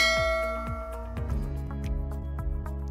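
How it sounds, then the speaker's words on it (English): A bright notification bell rings out in a short run of struck metallic dings, the first few clear and spaced, then quicker overlapping chimes ringing into a sustained shimmer, loud and close. "hit that notification bell so you never miss a safety lesson"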